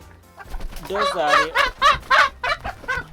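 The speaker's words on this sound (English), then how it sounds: "So this is chicken." Close, loud chicken clucking in a series of rising, throaty calls with short pauses between them, and some background noise at the start.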